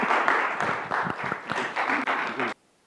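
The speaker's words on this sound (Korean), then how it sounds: "환영의 박수 부탁드리겠습니다" A church congregation gives welcoming applause for a pastor about to preach, a loud burst of clapping that lasts about two and a half seconds and then cuts off abruptly into near silence.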